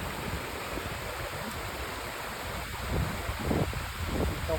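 Steady wind rushes and buffets the microphone at a waterfall, mixed with a broad watery wash, the gusts swelling louder toward the end.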